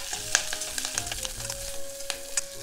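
Cut shishito peppers and garlic frying in a pan for a Japanese home-style side dish, a close, steady sizzle with crackling pops and a few utensil scrapes, no talking.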